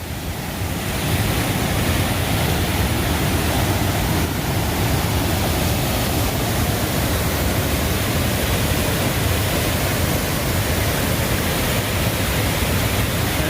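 Dismal Falls on the Appalachian Trail in Virginia, running with high water, roars as a loud, steady, broadband rush that persists unbroken from near the start, close and overwhelming.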